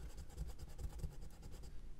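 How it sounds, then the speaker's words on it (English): A fiberglass pencil scrubs a soldered brass lamp pedestal on a 1/144 scale Flower Class corvette model, giving a steady run of rapid, dry scratching strokes up close, heard alone for about two seconds. "And some cleanup with a fiberglass pencil."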